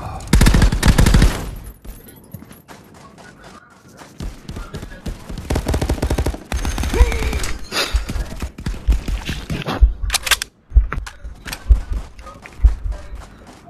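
Bursts of automatic gunfire and single shots in the Contractors VR shooter game ring out loud and close, some clustered into rapid rattling volleys with pauses between them, while players talk over the action.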